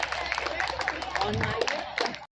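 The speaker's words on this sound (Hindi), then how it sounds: "इन तीनों बच्चों के लिए जरा जोर से तालियां बजाइए" An audience at a Najibabad Diwali fair claps for three children, quick scattered handclaps mixed with a voice talking over them, brief and fairly close.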